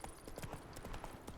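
Horse hooves galloping in The Witcher 3, a quick rapid clip-clop of repeated hoofbeats at a steady running rhythm, fairly faint and close, with no voices.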